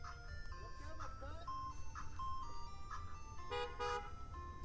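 Ice cream truck tune drifting through a residential street, a series of bright chiming melody notes running continuously over low vehicle rumble, with voices talking throughout.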